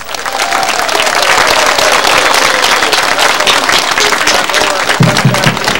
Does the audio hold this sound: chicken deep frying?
no